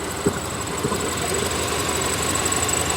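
A 1993 Chevy 1500 pickup engine runs steadily while warming up after sitting for years, a continuous low rumble with a faint high whine and a couple of brief knocks near the start, loud and up close with no talk.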